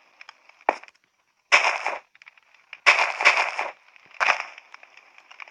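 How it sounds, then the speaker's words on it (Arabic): A Minecraft redstone-triggered explosion set off while building a castle sounds as sharp crackling bursts: one short pop, then three louder blasts spaced about a second apart, close and dry. "انفجار. ثانية واحدة،"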